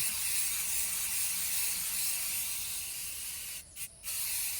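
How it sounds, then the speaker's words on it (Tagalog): A hand sprayer hisses steadily over plants on a small vegetable farm, a close continuous spray that cuts out briefly twice near the end before resuming. "Spray na, dear."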